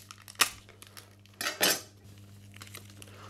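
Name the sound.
mixing paprika into breadcrumbs and flour for spice mix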